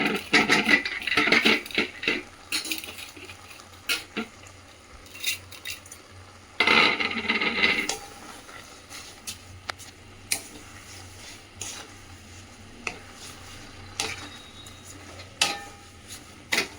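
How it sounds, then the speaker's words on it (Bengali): Grated carrot halwa with sugar is stirred in a pan, giving intermittent scraping and clinking of a spoon against metal, with a couple of louder bursts of scraping between quieter taps. "চিনিটা দিয়ে এটাকে আমি ভালোভাবে একদম নেড়ে চেড়ে নেব।"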